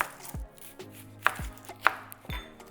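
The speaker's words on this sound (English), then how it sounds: "So we're gonna chop this onion." A knife chops an onion on a cutting board, giving about six crisp, close thuds at an uneven, unhurried pace, alone with no voices.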